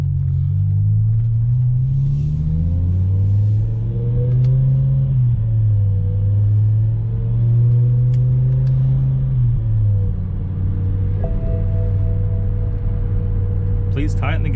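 A BMW E60 M5 accelerating on a test drive with paddle shifts, its engine droning loud and close, the pitch climbing and dropping at each gear change, with a brief chime late on.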